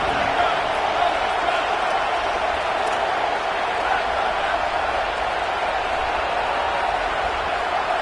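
A home crowd at a football game roars steadily through a third-down play, a dense, continuous wall of cheering with no break, heard alone without close talk.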